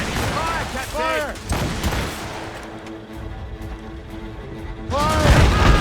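Warship cannons fire during a naval battle in Assassin's Creed Rogue: heavy booming volleys burst out in clusters, mixed with crashes and loud shouted commands from the crew.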